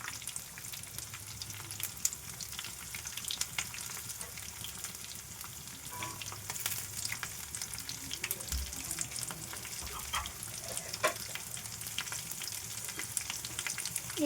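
Cumin seeds fry in a pan for a gongura pickle, giving a steady, close crackling sizzle with soft scrapes throughout and no talking.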